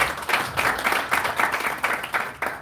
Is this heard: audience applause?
yes